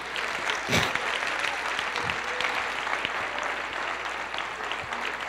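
A church congregation claps steadily, dense sustained applause filling the room at moderate loudness with no break.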